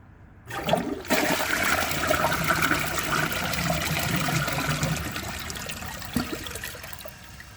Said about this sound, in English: I'm going to try that again, but I'm going to hold the handle down